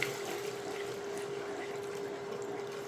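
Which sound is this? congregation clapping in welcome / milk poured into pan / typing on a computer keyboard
milk poured into pan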